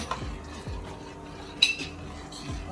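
A spoon stirs cornmeal porridge in a pot for Jamaican cornmeal porridge, giving soft scraping strokes against the pot at an irregular pace, with one sharper metallic clink midway.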